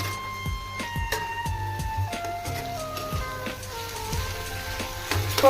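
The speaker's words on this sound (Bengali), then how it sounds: "কর্নগুলোকে ছেড়ে দেবো। দেওয়ার পর নেড়ে ছেড়ে সমস্ত মশলার সাথে মিশিয়ে নেব।" Sweet corn kernels sizzle and fry with onion, spices and tomato sauce in a pan, with repeated clinks and scrapes of a spoon stirring them, steady and close with no talk.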